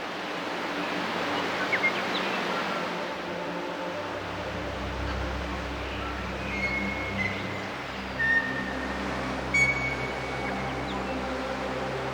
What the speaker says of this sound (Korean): 폭포가 다 달라.